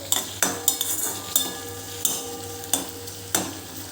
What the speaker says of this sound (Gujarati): બીજી બાજુ આપણે ડુંગળીને બટાકા શેકાય છે તે જોઈ લઈશું હવે આને આપણે એક વખત હલાવી લેવાના છે